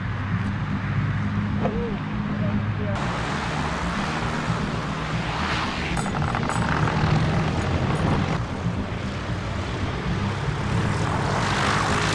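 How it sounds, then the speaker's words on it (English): Aircraft engines drone steadily and loudly at a sailplane Grand Prix regatta start as gliders are towed aloft, a continuous roar with shifting tone throughout. "Only when all the planes are airborne can the competition get underway."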